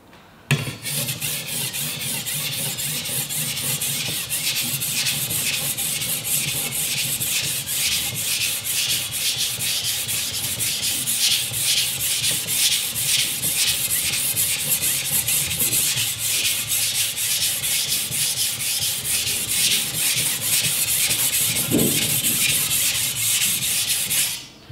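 A machete blade is sharpened on a stone with a Japanese-style back-and-forth stroke, producing loud, steady rhythmic rasping and rubbing that repeats evenly for over twenty seconds with no talking.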